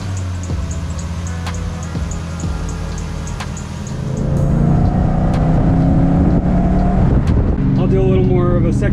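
Supercharged Lexus-Toyota V8 car making a second-gear pull from 3000 rpm, idling and then building into a loud rising engine roar that climbs steadily, with someone speaking over it.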